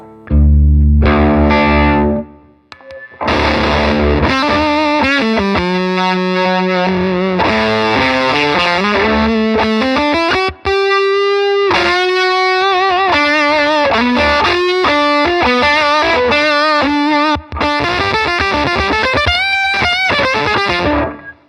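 Guitar played through a Giudis C375 fuzz pedal set to its most starved voltage, giving a sputtering, gated fuzz with undertone octave artifacts; loud, sustained notes and bends with brief gaps, no talking.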